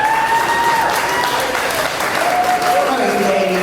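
An audience at a jazz hall of fame induction applauds in a loud, sustained wash of clapping, with a tonal line of music or voice drifting faintly above it.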